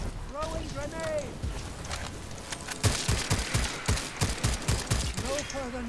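Rapid bursts of gunfire and explosive thuds from the video game Second Extinction fill the second half, loud and rhythmic, following an opening stretch with voices talking over game noise.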